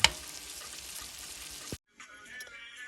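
Loud sizzling of a steak frying in a hot pan, crackling steadily, then cutting off abruptly into quieter faint clinks.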